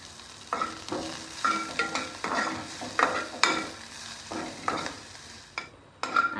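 Finely chopped fenugreek leaves get stirred into reddened frying garlic, rhythmic spatula scrapes over a light sizzle, close but fairly soft, with no one speaking.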